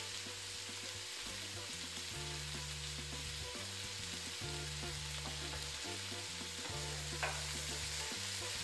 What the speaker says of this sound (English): right now, I'm just kind of tossing and making sure that all of the ingredients are pretty evenly combined.